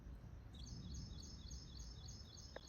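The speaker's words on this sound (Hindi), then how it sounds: "चिड़ियों की भी आवाज़ है।" Small birds outdoors in Lahore on a cloudy morning after rain chirp in a repeated series of short, high, thin calls, fairly faint and a little distant, over a soft low outdoor rumble.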